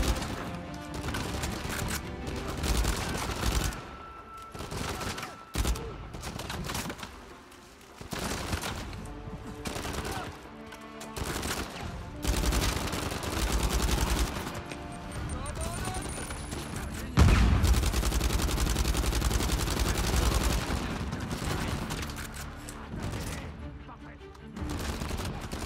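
Gunfire erupting in Uncharted 4 on Difficile mode during a fight against mummies, with repeated bursts of rapid shots and crashing impacts over more than twenty seconds, loud and dense, interrupted by short gaps and with someone talking at times.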